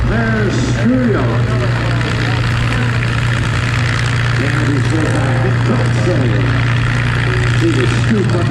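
A propeller airplane with a water-cooled engine drones steadily at close range with a low, constant hum, while someone talks over it throughout.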